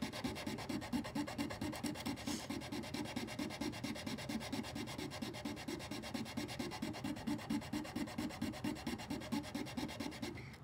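A wooden piece is shaved down by hand so it will fit, with a close, steady rasping in even, rapid strokes, roughly two or three per second, going on without a break.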